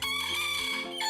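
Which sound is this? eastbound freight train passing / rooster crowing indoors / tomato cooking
rooster crowing indoors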